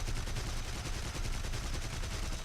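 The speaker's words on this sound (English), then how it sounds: "Not so funny when someone starts shooting back" Rapid, sustained aircraft gunfire in War Thunder, including a BF109, rattling as a dense continuous burst that fills the whole stretch at steady loudness with no talk over it.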